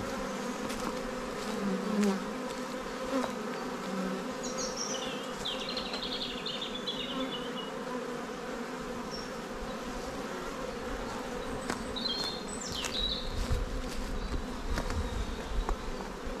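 Honeybees buzz steadily close by around a hive, several insects droning at once, with brief louder passes as individual bees fly near.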